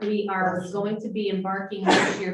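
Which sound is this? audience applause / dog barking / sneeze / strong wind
sneeze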